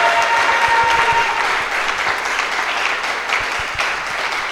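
Congregation at a Sunday church service breaking into acclamation praise, steady dense applause with claps and cheering filling the space, loud and continuous throughout.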